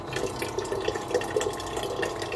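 Water pouring steadily into a container being refilled in a kitchen, a continuous close trickling splash with no voices.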